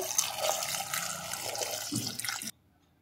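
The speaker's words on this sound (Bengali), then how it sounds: "দিয়ে দিলাম জল" Water splashes and pours into a pressure cooker holding potatoes with salt and turmeric, a close, steady gush that stops abruptly near the end.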